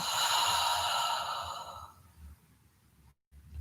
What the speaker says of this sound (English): go ahead and just take a slow inhale through your nose. Exhale.